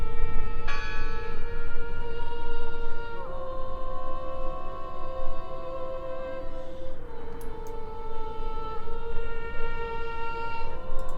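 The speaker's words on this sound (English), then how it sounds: "Listen! The bell!" A bell in the video game Draugen rings out in sustained metallic tones that hold and shift over about eleven seconds, with a steady noisy ambience underneath.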